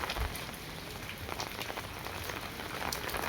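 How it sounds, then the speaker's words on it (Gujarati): Rain falls steadily on outdoor surfaces, a faint continuous patter with scattered drips, with no voices. "વરસાદ હવે હરવે પડી ગયો હે."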